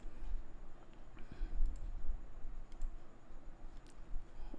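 Keyboard typing while entering a number into charting software, a quick run of light plastic key clicks, close and fairly quiet, with no voices.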